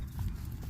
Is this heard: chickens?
no